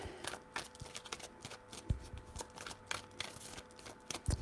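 Tarot cards being shuffled by hand in several quick riffling bursts, close and fairly quiet, with no talking.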